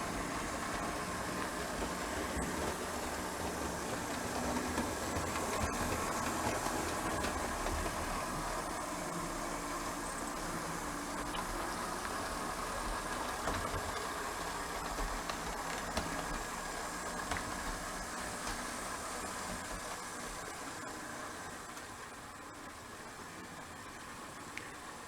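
Model train locomotives on an indoor railway layout run steadily into the engine shop, a continuous low mechanical hum and whirr with faint rail clicks that stays even throughout and eases slightly near the end, with no talking.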